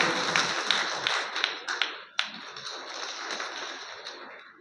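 Applause from the crowd at a Vikas Manch mass convention in Sardarshahar, a steady wash of clapping with sharp individual claps standing out near the start, fading gradually toward the end.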